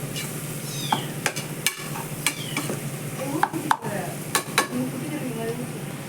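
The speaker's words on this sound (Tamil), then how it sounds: "போட்டு நல்லா எண்ணெயில் கொஞ்சம் நேரம் வதக்கி விட்டுடலாம்" Onion, tomato and chilli powder sauté in oil in a pan, a steady close sizzle with a few clinking stirs of a spoon against the pan.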